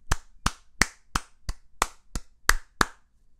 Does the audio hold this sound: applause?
yes